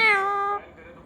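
A pet parrot imitates a cat's meow with a single loud, close, drawn-out call that slides downward and then trails off into quiet.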